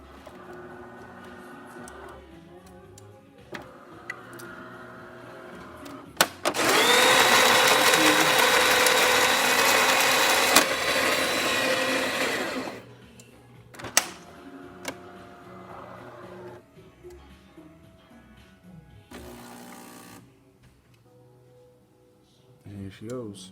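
A DeLonghi espresso machine runs a test shot after repair, its pump letting out a loud, steady buzzing hum for about six seconds, with mechanical clicks and someone speaking before and after.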